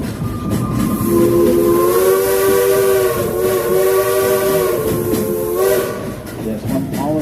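A steam train whistle at Silver Dollar City blows a long, loud chord-like tone for several seconds, pauses briefly, then sounds again over the hiss and rumble of the moving train.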